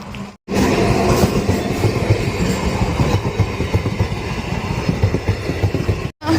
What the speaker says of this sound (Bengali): এখন ট্রেন যাচ্ছে আমি ট্রেন দেখতে ভালোবাসি